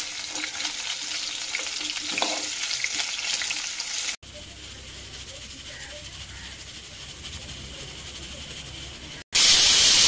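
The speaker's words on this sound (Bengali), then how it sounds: "পেঁপেগুলো একসাথে ভেজে নেবে? হ্যাঁ, বেশিক্ষণ ভাজবো না" Potatoes and papaya frying together in oil for a mutton curry, a steady loud sizzle and hiss running throughout, briefly cut off and returning louder at the end.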